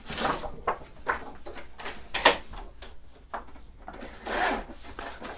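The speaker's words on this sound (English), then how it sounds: "let me grab a new sheet of paper" Paper is grabbed and handled at a craft table: a string of soft rustles, slides and light taps, close and quiet, with no talking.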